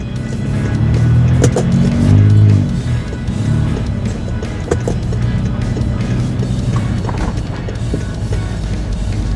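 Car driving along a road, a steady loud rumble of engine and tyres with some bumps and knocks in the cabin and no talk.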